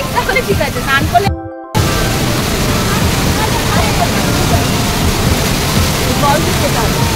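Dassam waterfall in Jharkhand roars as a steady, dense wash of falling water close by, with voices talking over it and a brief dropout near the start.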